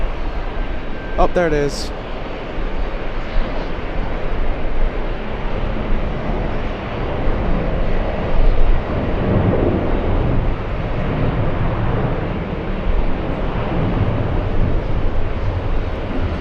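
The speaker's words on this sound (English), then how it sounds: "We have a 767 on the departure roll." Boeing 767 jet rolling down the runway on its departure takeoff, a steady broad engine roar heard from a distance through gusty wind noise, with a brief voice speaking early on.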